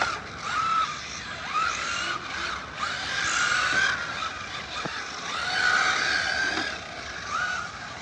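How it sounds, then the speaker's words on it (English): An RC car drifting on wet pavement in the rain gives repeated short, high-pitched tire squeals and motor whines over a steady wet hiss, at moderate distance. "I love the drifting. It's so great on the wet pavement."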